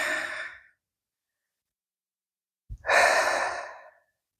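Two long, slow breaths during a yoga practice, an exhale fading out, then after a silent pause a sharp intake followed by a full sighing exhale, close and alone.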